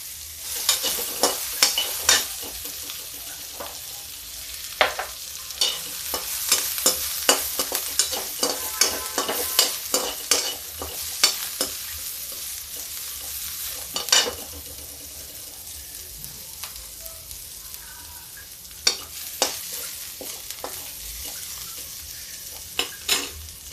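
Onions frying lightly in a pan for a dhaba-style mixed dal, with steady sizzling broken by frequent scraping stirs of a spatula, close and moderately loud with no talk.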